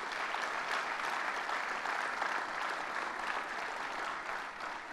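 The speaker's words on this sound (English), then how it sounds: "Let's give him another round of applause." Crowd at a state governor's event announcing a $10 million regional award in Schenectady gives a steady, even round of applause, a dense unbroken clatter of many hands throughout.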